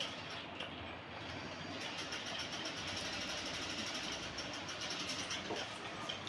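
A sewing machine stitches a blouse slowly and carefully, giving a faint, even mechanical whirr with a quick, regular ticking pulse that runs continuously throughout.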